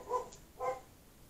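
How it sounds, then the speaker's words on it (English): A dog indoors gives two short, faint barks about half a second apart, heard from some distance in an otherwise quiet room. "So sorry about the barking."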